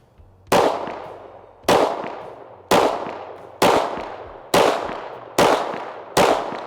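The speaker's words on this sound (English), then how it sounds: "I'm gonna shoot it one-handed now." Pistol fired one-handed: seven sharp, loud shots spaced roughly a second apart, each with a ringing decay outdoors, no talking.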